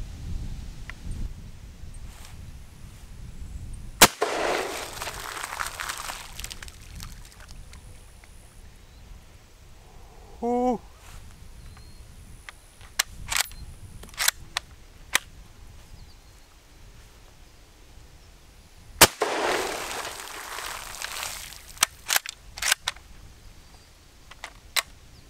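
Mosin Nagant rifle fired outdoors in an open rural area into a ditch, with two sharp, loud isolated shots about fifteen seconds apart over quiet background, plus faint clicks of handling between them.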